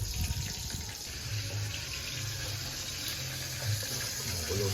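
Water comes to a rolling boil in a cooking pot on the stove, giving a steady, close bubbling and rushing hiss that runs unbroken and fairly loud, with no voices over it.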